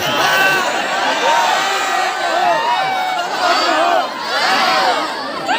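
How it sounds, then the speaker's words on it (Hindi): Dense crowd noise at a village stage dance show in Kurmatarai, Dhamtari, Chhattisgarh, with loud continuous cheering, whoops and shouting that swell and dip across the clip. No distinct clapping rhythm is evident beneath the roar. "एक बार जोरदार तालियां बजा दीजिए भैया के सम्मान में"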